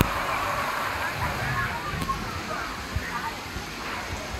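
An artificial waterfall pours into a poorly maintained swimming pool, a steady broadband rush of falling water with occasional splashes, while a person talks over it.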